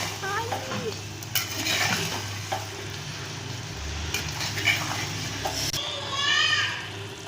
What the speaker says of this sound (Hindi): और इसको भूनना ज़्यादा है, जितना भूनेंगे उतने ये मज़ेदार बनेंगे